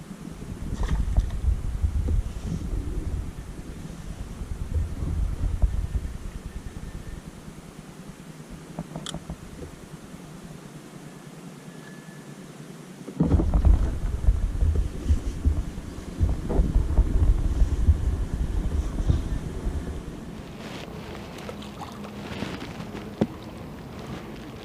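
Steady wind buffets the microphone on the bank of the River Trent during float fishing, a low rumbling roar that gusts louder at the start, dips into a lull midway, then surges strongly again before easing.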